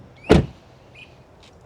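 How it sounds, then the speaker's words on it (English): A 2026 Toyota RAV4 Plug-In Hybrid XSE door shuts with one solid, close thud, followed by quiet background and a faint mechanical whir. "let's listen to the sound of the closing door"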